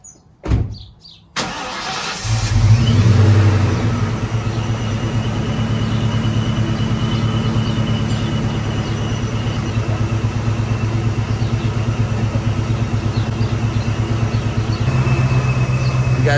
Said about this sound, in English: So let me go ahead and actually turn on the car real quick.